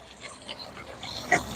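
A dog whimpers and pants in short, faint bursts, with a slightly louder whine near the end, outdoors and close by.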